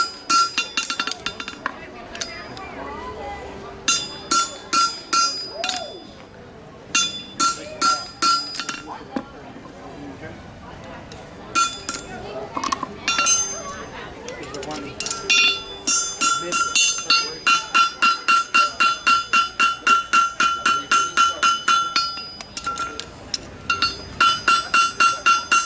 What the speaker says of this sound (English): he's cutting the holes that the nails will go through right now.